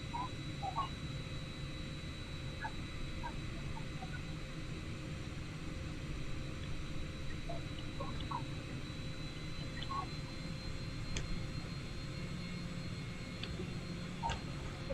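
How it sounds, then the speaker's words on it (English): Aircraft engine noise from Microsoft Flight Simulator plays as a steady, even jet hum throughout, with faint ticking and clicking cockpit sounds scattered over it. "If you want to hear, the sound of engine, please use some earbuds."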